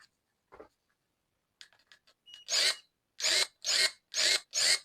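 A ProCraft ES32LI cordless pruner with a 20-volt battery is switched on, giving a few faint clicks and then five loud, close, evenly spaced snapping motor bursts of about half a second each, with no talking.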